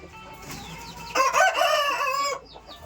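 A rooster at a poultry yard keeping roosters, hens and chicks crows once, loud and close, over brief soft clucking from nearby fowl.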